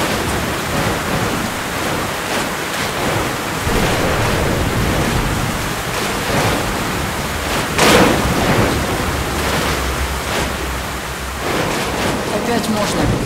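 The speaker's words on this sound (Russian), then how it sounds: "Сейчас снова будет буря. Да, буря." Storm wind howls across the ruined surface in the video game Metro: Last Light, a dense roaring rush of noise that surges and swells, with a louder gust near the middle.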